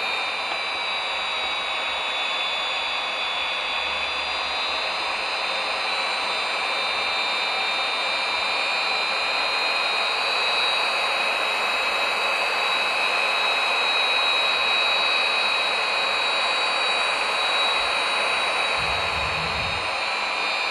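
An F-16 jet engine roars at takeoff power in a flight simulator, a steady, dense, loud whine and rush that holds unbroken throughout with no voices.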